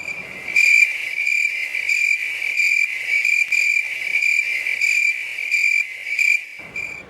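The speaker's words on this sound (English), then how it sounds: "That's what we just heard was crickets." Crickets chirp in a steady, high-pitched pulsing rhythm, fairly close and continuous, with no voices.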